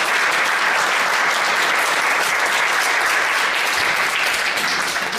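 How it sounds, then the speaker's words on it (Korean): A congregation at a church revival meeting gives loud, sustained applause to welcome a pastor, a thick even wash of clapping that holds steady from start to finish. "나오실 때 큰 박수로 환영해 주시기 바랍니다"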